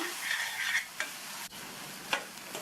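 Raw mango pachadi sautéing in a pan, a soft steady sizzle with a few light scrapes and taps of a spoon stirring, close and moderately quiet, with no talking.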